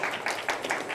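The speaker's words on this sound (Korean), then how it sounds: "우리 하나님께 영광의 박수를 하고요." Korean youth-service congregation clapping in praise to God, a short burst of scattered, uneven handclaps close by with a few sharper individual claps.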